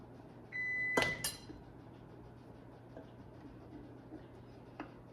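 A kitchen oven timer sounds a short steady beep early on, followed by a couple of clunks and faint clicks nearby in an otherwise quiet room.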